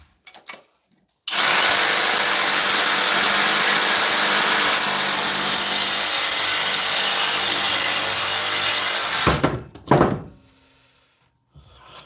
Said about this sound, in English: one hand in this Sawzall is not for the weak of heart